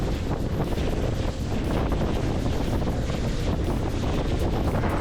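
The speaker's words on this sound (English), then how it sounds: "The wind today is out of the south-southeast, mainly east" Steady, loud wind buffets the microphone while out on the water bass fishing, with a continuous roar and faint wave wash, no voices.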